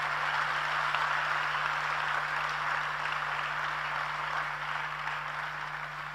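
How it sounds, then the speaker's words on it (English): Sustained applause from an audience welcoming the Honorable Minister at a Ghana youth dialogue session, a steady wash of clapping over six seconds with a constant low electrical hum beneath. "So please give a hand clap to the Honorable Minister for making time to come here."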